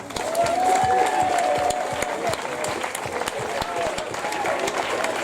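A crowd claps and cheers steadily, dense applause throughout with a few brief whistles or shouts mixed in.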